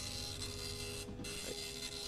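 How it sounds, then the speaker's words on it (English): A printer in a video game diner runs with a mechanical whir and rhythmic feed noise, a constant tonal hum with a brief dip partway through, heard alone without talking. "Wait, is that the printer right there?"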